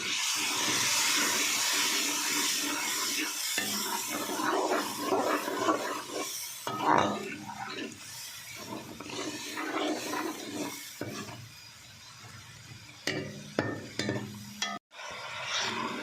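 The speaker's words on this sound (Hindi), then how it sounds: "थोड़ा सा पानी डाल के इसको अच्छी तरह भून देंगे।" Ginger, garlic, tomato and spice masala frying with a little water in a pan, heard as a steady close sizzle with scraping and stirring, fading quieter toward the end.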